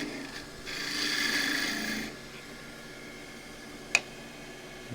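A gouge cuts wood on a lathe while a glasses stand is being turned, giving a steady rasping scrape for about two seconds before falling quiet, then one sharp brief click.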